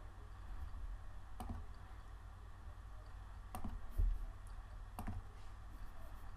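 A computer mouse clicks a few times over quiet room hum: sharp, faint, isolated clicks spaced a second or more apart, with no talking.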